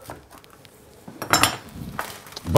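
Cutlery scraping and clinking on a plate while a cheese quesadilla is cut in a home kitchen, a few short close clatters growing louder toward the end.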